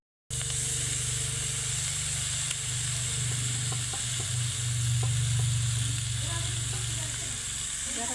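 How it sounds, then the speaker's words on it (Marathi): Dried shrimp (sukat) hits a pan of onions fried deep red, setting off a loud, steady sizzle that runs for several seconds, with faint stirring scrapes mixed in. "आता सुकट टाकून घेते मी"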